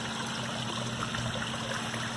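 Water flowing from a pipe into a spring-fed koi pond, a steady close trickling and splashing wash with a faint low hum beneath, continuous and unbroken.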